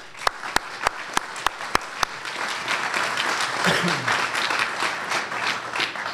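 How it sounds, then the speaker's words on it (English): Several sharp, evenly spaced claps open the sound before a fuller round of applause swells from staff gathered at Bristol-Myers Squibb's North America Capability Center. The clapping is broad and sustained, and a voice murmurs faintly beneath it. "I want to give you a big round of applause"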